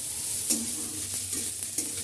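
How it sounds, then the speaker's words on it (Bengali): Onion sizzling in hot oil in a pan on a stove after cumin is tempered, a steady crackle with a few soft stirring scrapes at intervals. "এবার পেঁয়াজ দিয়ে দেবো।"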